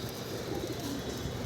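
Pigeons in a loft, let out in the afternoon, fill the air with a dense, continuous murmur of cooing and rustling that holds steady throughout without any talk.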